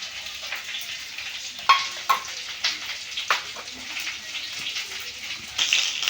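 Pieces of boal fish fry in hot oil with a steady, close sizzle, broken by a few sharp clicks and taps from a utensil in the pan.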